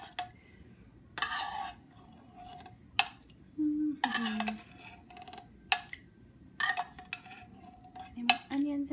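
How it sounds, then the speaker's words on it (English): A metal spoon scrapes and clinks against a can in short, irregular bursts, separated by quiet pauses, close up. "my spoon scraping on the can"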